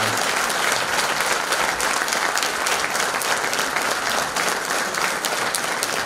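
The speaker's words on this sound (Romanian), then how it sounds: "aplauze maxime pentru noi." Sustained applause from a concert audience at a Christmas carol concert in Moinești fills the whole stretch, dense and steady, with no voices standing out.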